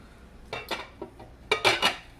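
A lid goes onto a crock pot in a home kitchen: a few light ceramic-and-metal clinks and clatters, close and fairly quiet, bunched into two short clusters.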